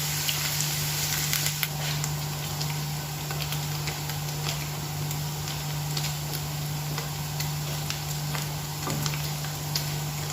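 Paneer cubes frying in hot oil, a steady dense sizzle with light crackles throughout, alone with a constant low hum underneath.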